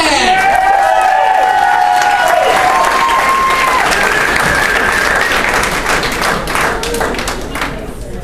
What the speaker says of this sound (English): Ladies and gentlemen, give it up for contestant number 7, Weston Sherman!